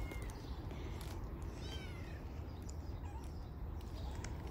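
A few faint meows from a stray mother cat on an Istanbul street rise over a steady low rumble of background noise, distant and intermittent, with no talking.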